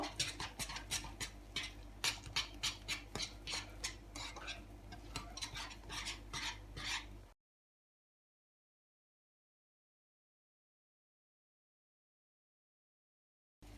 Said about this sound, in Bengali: চুলার আজটা সিক্সে করে দিব আর এরকম অনবরত নাড়তে থাকবো